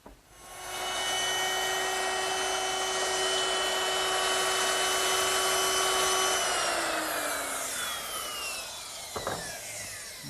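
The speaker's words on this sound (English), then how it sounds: "simply take my router and finish the dado" A router cuts a dado in wood for a kitchen dresser, a loud steady high-pitched motor whine with cutting noise that runs for several seconds, then winds down in falling pitch, followed by a brief knock.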